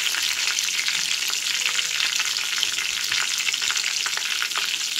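Soaked spice paste tipped into a hot pan, a loud, dense, continuous sizzle and crackle of frying close up, with light stirring scrapes and no talk.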